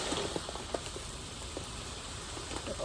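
Sunflower seed bird feed poured into a garden feeder makes a faint, steady granular patter with a few soft clicks of seeds landing.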